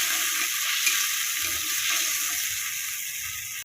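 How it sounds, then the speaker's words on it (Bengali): Spices fry in a pan with a little water, a dense continuous hiss of sizzling oil held close and loud throughout, with faint stirring underneath and no talking. "জলটাই আর মশলাটা একটু কষা কষা ভাজা ভাজা করবো"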